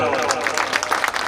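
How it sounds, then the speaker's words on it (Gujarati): Audience clapping at a Gujarati bhajan santvani gathering in a village ashram at Kanodar, a dense burst of hand claps mixed with voices and musical tones throughout. "ભાવથી એકવાર તાળી દીવડાવવાના"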